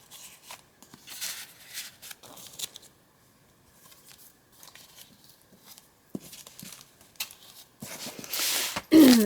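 Pages of a handmade paper journal with pockets, postcards and paper clips are flipped through close by, giving soft irregular rustles and papery flutters, with quiet gaps and a louder burst of handling at the end.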